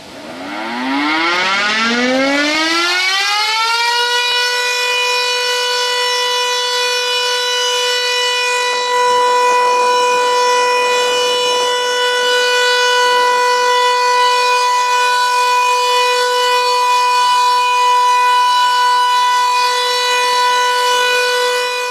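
World War II air raid siren at Broadmoor, Berkshire, installed in 1952, winding up from a low growl to a loud, piercing sustained wail and holding steady, alone and very close.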